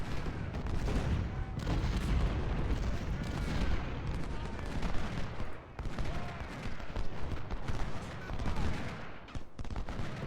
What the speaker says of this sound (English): I'm gonna park these 20-pounders up here, move the 10-pounders up, and we'll be shelling this fort from 2 different sides